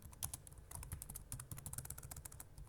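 Rapid typing on a computer keyboard, dense clicking keystrokes running steadily for a few seconds, close and fairly quiet, with no talk.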